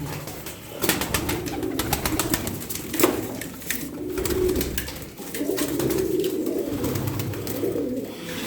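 Several tumbler pigeons coo inside a coop in repeated rolling phrases, close and fairly loud, with brief flutters between calls and no speech.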